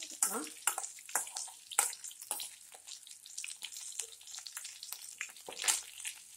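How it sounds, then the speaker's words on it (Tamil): Onions sauté in a pan for carrot chutney. Repeated scraping stirs and brief splattery bursts sit over a soft, continuous sizzle, moderately close but fairly quiet. "ஆனியன் வதங்கிட்டு இருக்கு"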